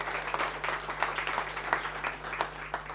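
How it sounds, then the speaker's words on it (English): A small audience claps for a startup pitch project at a pitch event, scattered fairly soft handclaps over a low steady hum, uneven and thin rather than a full roar. "So applause for Fred's idea."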